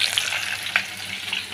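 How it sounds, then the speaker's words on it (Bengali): Fish fry in hot oil in a home kitchen, giving a steady close sizzle with a few brief stirring scrapes. "মাছগুলো একটু ভালো করে ভেজে নেবো"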